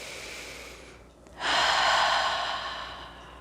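During a chair yoga class, someone draws a deep breath in through the nose and then lets out a long, airy exhale close to the mic.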